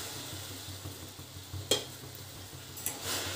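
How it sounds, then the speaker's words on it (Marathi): Soft scraping of a spoon stirring sugar and water in a pan over a gas flame, quiet and steady with a couple of brief metallic clinks against the pan. "जोपर्यंत साखर विरघळत नाही तोपर्यंत पूर्ण असं हे हलवत राहायचं आहे आपल्याला"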